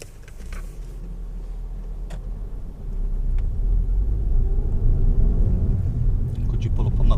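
A car pulls away during a driving test, its engine rumble swelling after a quiet idle and holding as a steady low drone heard from inside the vehicle.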